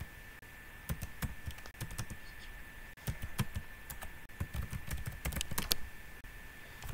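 Bursts of keystrokes on a computer keyboard as a command is typed, with irregular clusters of sharp clicks separated by short pauses and no speech.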